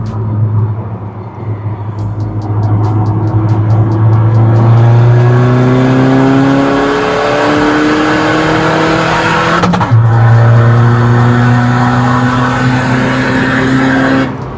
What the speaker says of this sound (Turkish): Ama gazlanması çok iyi arabanın yani. Çok güzel hızlanıyor.